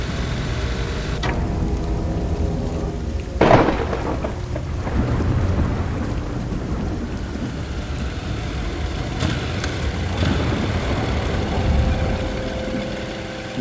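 A cartoon thunderstorm with heavy rain: steady loud downpour throughout, with a sharp thunder crack near the start and rolling rumbles later, no talking.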